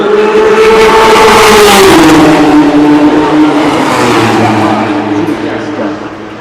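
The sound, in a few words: Porsche and Ferrari race cars passing at Le Mans 24 Hours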